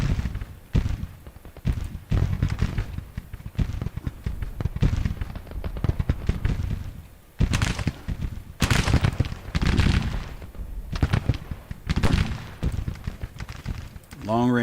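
Artillery guns fire in the video game Grand Tactician: The Civil War, a dense, continuous barrage of booms and cracks layered with rumbling thuds, and a voice talking over it.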